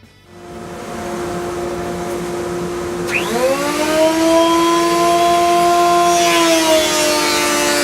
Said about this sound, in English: Right now I'm using my biscuit joiner to put some biscuits where I marked my lines